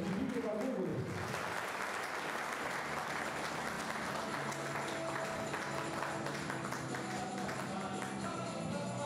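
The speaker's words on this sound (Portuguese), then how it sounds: "Uma salva de palmas a Benedito Campos de Brota" A crowd claps steadily at a sports memory award ceremony honouring athlete Benedito Campos, a dense, sustained round of applause that swells after the first second and carries on loudly to the end.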